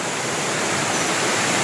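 A waterfall roars steadily and loudly, a dense, unbroken rush of falling water with no voices over it.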